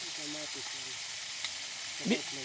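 Tomatoes sautéing in a pan, a soft steady sizzle that holds faintly through the whole stretch while people talk quietly nearby.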